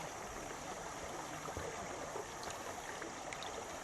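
Creek water pours steadily into a water filter bag at a camp on Richland Creek, Arkansas, a continuous close rushing trickle with no talk.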